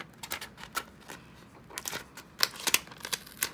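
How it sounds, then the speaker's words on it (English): Scissors snip through an Infusible Ink transfer sheet in quick, faint, irregular cuts, scattered in small bursts with a few crisper snips near the end, close and alone. "see if I can get my scissors and snip"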